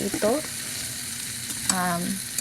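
Garlic and onion sautéing in butter in a pan, with a steady close sizzle throughout and two brief stirring or scraping sweeps.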